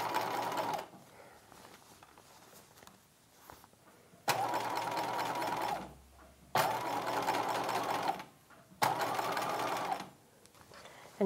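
A sewing machine stitches the lining of a 1950s halter dress in three long bursts of steady whirring, each separated by a pause where the needle stops down and the fabric is smoothed.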